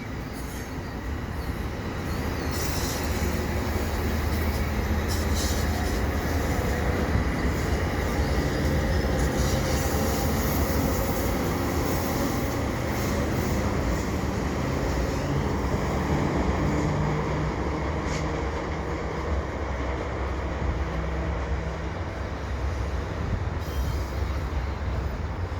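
Freight and commuter trains with locomotives rolling past at Dorval station, a steady, loud rumble of wheels on rails with metallic squeal, sustained throughout with no talk.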